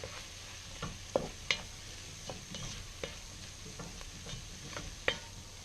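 A spoon works through a mixture in a pan for cream of cauliflower and toasted caraway soup, giving soft scraping strokes at an irregular pace with a light sizzle underneath, fairly close and quiet, with no voices.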